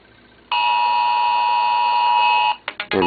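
An iPhone set to silent rings loudly after a text message arrives, giving a sustained, piercing alarm-like tone that starts abruptly and then breaks into choppy pulses at the end.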